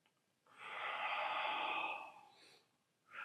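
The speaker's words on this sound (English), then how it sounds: "great television where we just sit and sniff glasses" Someone takes a long, audible sniff from a glass of peated whiskey, close and breathy for about a second and a half, followed by a couple of shorter soft breaths.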